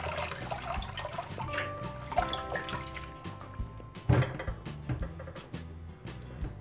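Washed cabbage for kimchi being squeezed by hand, water trickling and dripping out in uneven spurts over several seconds, close and fairly quiet, with a clatter of background music-like tones underneath.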